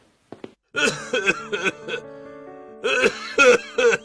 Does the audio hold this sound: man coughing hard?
yes